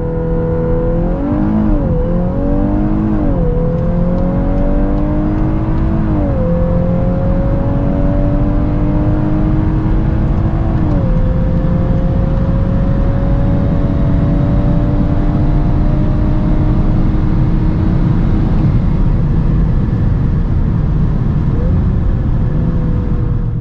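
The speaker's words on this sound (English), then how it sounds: "let's now see how fast the Golf R goes, 100 to 200" A VW Golf 8 R accelerates hard on the road from 100 to 200, its engine climbing through the revs with several sharp upshifts that drop the pitch before it rises again, loud and continuous.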